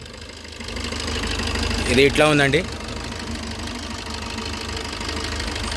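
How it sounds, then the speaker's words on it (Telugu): A 2016 Maruti Suzuki Baleno Alpha diesel engine idles with a steady low rumble and faint knocking, while someone speaks briefly over it midway. "ఇంజన్ సౌండ్ మాత్రం ఇట్లా ఉంది"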